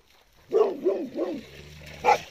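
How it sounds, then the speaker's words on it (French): A dog barks several times in a short burst, three rhythmic barks then one more, at moderate distance outdoors by the water, with no one speaking. "Ils sont fous ces chiens."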